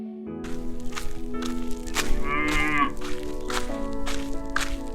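Cartoon cows moo repeatedly while grazing in a forest in an animated Tamil moral story, with long lowing calls rising over a steady bed of background music; no speech is heard.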